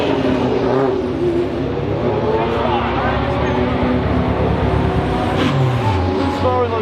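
Tiga SC81 S2000 race car on track with a misfiring engine, a continuous loud, rough engine roar heard from the cockpit, with someone talking over it.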